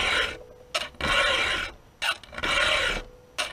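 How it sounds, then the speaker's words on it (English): A 3/16 round file rasps across a small chainsaw chain, close up. Four steady rhythmic strokes with short pauses between them. "I'm using a 3/16 file."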